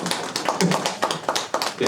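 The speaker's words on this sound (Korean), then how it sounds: "또 박수가" An audience at a film screening Q&A in a cinema claps in a brisk, uneven patter of applause, with voices mixed in.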